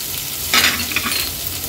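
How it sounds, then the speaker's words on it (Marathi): Finely chopped onion drops into crackling tempering oil for tomato rice, a loud close sizzle that surges sharply as the onion goes in, then settles into a steady hiss with small pops. "आपली फोडणी चांगली तडतडली की आपण हा बारीक चिरलेला कांदा ऍड करूया।"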